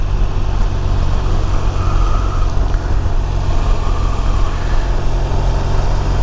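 A BMW R1200RT motorcycle engine drones steadily while riding, a loud continuous low rumble mixed with wind and road noise, heard close throughout with no talk.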